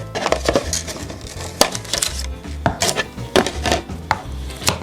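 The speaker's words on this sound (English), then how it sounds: "So I'm just going to cut my little piece out of this." A small strip is cut from a tough, durable material for repairing a cheap tripod's ball head, heard as a close series of sharp, irregular cutting chops and crunches with brief pauses between them.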